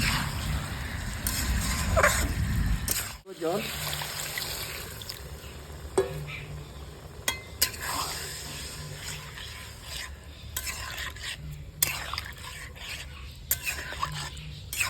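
Taro pieces are stirred and fried in oil in a pan, giving scraping, rubbing strokes with sizzling spatter. A sharp clunk and a brief gap break the sound early on, then irregular stirring scrapes continue close by.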